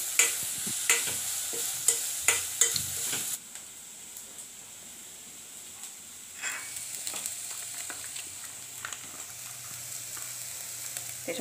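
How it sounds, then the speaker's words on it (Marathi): Carrots sauté in a pan for a triple rice dish, a steady soft sizzle broken by several sharp stirring scrapes at the start, then quieter frying with light clicks. "आणि आपण आधी गाजर त्याच्यामध्ये टाकू। पण हे चांगलं परतून घ्यायचं।"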